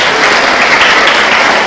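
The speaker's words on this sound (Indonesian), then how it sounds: "Tepuk tangan dulu, tepuk tangan." Church congregation applauding during a sermon, a dense, loud burst of clapping from many hands that holds steady throughout, close and unbroken with no talk on top.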